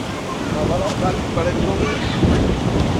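Ocean waves and gusty wind on the beach at Pantai Sindhu in Sanur, Bali: a steady broad roar of surf with wind buffeting the microphone, loud and close.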